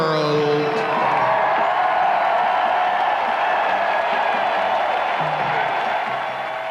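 Large crowd of more than 10,000 spectators cheering at the 1990 Gay Games opening ceremony in BC Place, Vancouver, a dense, sustained roar of voices and applause filling the stadium throughout.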